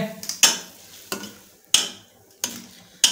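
A spoon stirs chicken soup ingredients in a pot, sharp clinking scrapes coming in five distinct strokes at roughly one-second intervals, close and clear with no talking.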